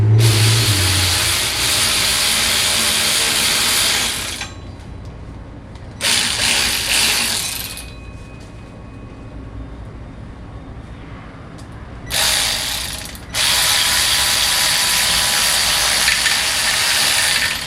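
Ratchet tightening a bolt in the engine bay of a 1969 Chevy C10, with bursts of rapid clicking at the start, briefly around six to eight seconds, and again near the end, separated by quieter stretches.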